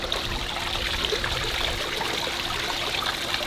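Water steadily trickling and draining off a pool cover during winterizing, a continuous close splashing stream that stays even throughout with no talk.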